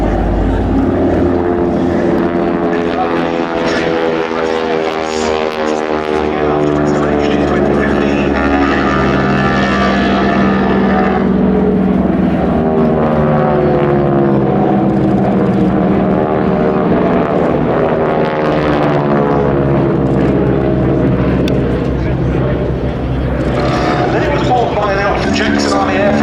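A Vultee Valiant trainer aircraft flies past at the Duxford Battle of Britain airshow, its radial piston engine droning loudly and continuously, swelling and fading as it passes, with a commentator talking throughout.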